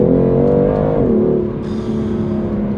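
A BMW M2 CS engine revving out in gear, a steady loud mechanical drone that shifts pitch down about midway, then holds on a slightly lower, even note.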